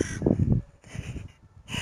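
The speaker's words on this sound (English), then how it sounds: "No, it's not a blackbird, it's a crow." Crow cawing outdoors, a few harsh rasping caws in quick succession at moderate distance, standing alone without talk.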